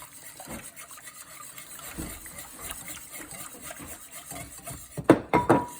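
Cereal with milk and bone broth being stirred, close scraping and rubbing strokes with a wet edge, building to a few louder clinks and scrapes near the end.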